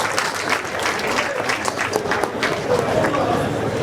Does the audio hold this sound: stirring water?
no